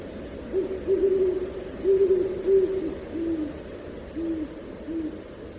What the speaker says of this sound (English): Somewhere, an owl calls, "Ooh, ooh,"